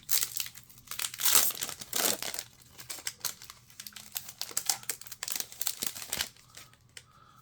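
Foil booster pack wrapper for Magic: The Gathering Secrets of Strixhaven being torn open and crumpled, a close, busy run of crinkling and tearing bursts over several seconds, quieter toward the end.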